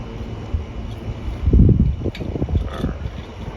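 Outdoor wind buffets the microphone where a three-piece take-down bow is being tillered, giving a low, uneven rumble with a stronger gust in the middle of the short stretch.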